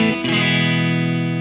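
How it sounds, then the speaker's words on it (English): An electric guitar on its neck humbucker plays through a slightly overdriven amp without reverb, a clean tone with a bit of grit. A single sustained chord is struck and rings out loud, with no talk. "it's clean humbucker. It has a bit of grit"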